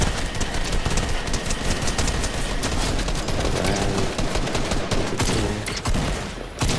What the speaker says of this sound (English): Shoot the bot.